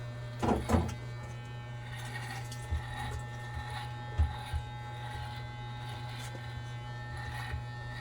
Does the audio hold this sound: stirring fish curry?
no